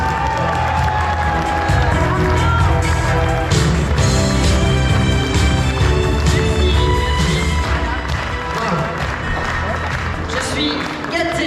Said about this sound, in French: un tonnerre d'applaudissements pour Madame Sylvie Honoré